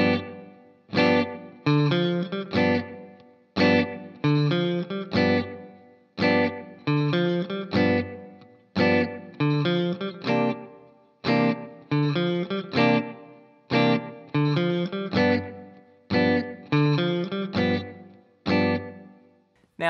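An electric guitar plays the first eight bars of a blues riff with all down picks and down strums, in a steady repeating pattern of short punchy chord hits and notes, close and loud, with no talking.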